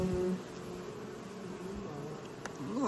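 Honeybees buzz around a hive in a dense, continuous drone, close and steady, with no voices.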